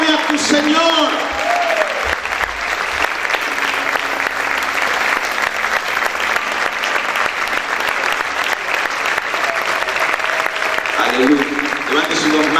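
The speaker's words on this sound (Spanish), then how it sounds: "Aplaude a tu Señor." Sustained, vigorous applause from a church congregation fills the space as a dense steady clatter, with a preacher's voice heard briefly at the beginning and close.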